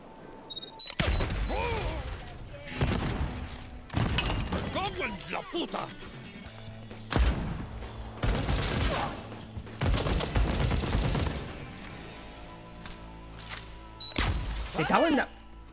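Grenade blasts and gunfire in the first-person shooter game Deathloop: loud, repeated bursts of explosions and rapid shots in several clusters, mixed with heavy impacts and crashes.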